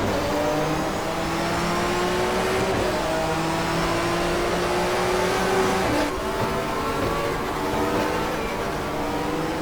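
Two Opel Vectra touring cars from a 1994 German Touring Car Cup round at Diepholz in the GTR2 racing game, running in tandem onto the front straight. Loud, continuous engine drone with gear shifts causing brief dips in pitch.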